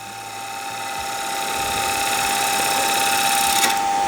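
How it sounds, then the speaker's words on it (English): A wood lathe spins steadily while a tool takes a smooth shearing cut, producing a continuous loud whirring hum with a sustained tone that rises slightly, heard close and alone without talk. "this is a nice little shearing cut"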